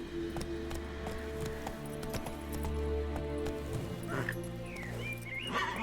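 Hoofbeats of the horse Roach in The Witcher 3, a steady clip-clop of galloping hooves close by under a low game music drone, with a brief animal cry near the end.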